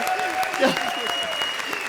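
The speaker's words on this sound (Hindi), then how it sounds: "जोरदार ताली बजाइए" Studio audience applause on a Hindi comedy stage show, steady clapping filling the short stretch with a faint voice and a sustained tone running underneath.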